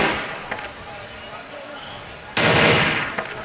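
Gunfire from a CrossFire match at a WCG USA finals, heard as short rapid bursts and a loud sustained volley near the end, mixed under a commentator's voice.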